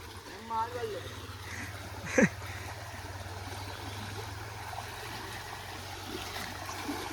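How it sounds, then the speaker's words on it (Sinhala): A strong forest stream swollen by rain rushes in a steady, moderate wash that runs throughout, with a brief sharp knock partway through. "අඩෝ වතුර පාරේ සැර බං."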